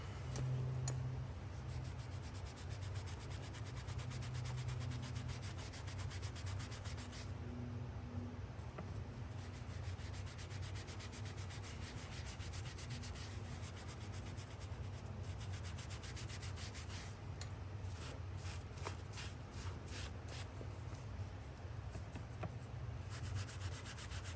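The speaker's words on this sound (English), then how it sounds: "we're gonna do just a little bit more cleaning here and see if this will maybe lighten up a little bit further" A leather panel is scrubbed clean by hand in a workshop. Soft, continuous rubbing strokes repeat at a steady pace under a low background hum, fairly quiet and close throughout.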